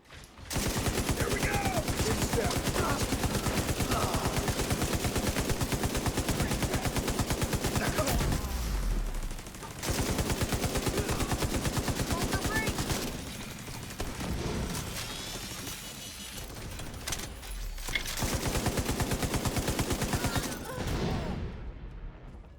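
Video game gunfire, rapid automatic bursts and single shots rattling almost nonstop with brief lulls, loud and close, while players talk over it.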